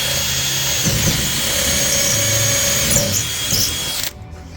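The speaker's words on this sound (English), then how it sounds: "And I'm just drilling through here there now." A power drill whines steadily and loudly as it bores through the ramp of a horsebox being reboarded, running continuously for about four seconds before it cuts off.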